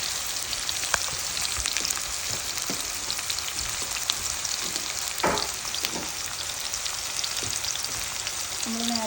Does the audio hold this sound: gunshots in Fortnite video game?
no